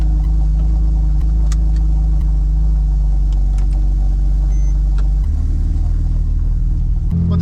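A Porsche 997 911 Turbo engine rumbles steadily at low speed while the car rolls out of a garage, a deep, loud drone that shifts pitch near the end as it moves off.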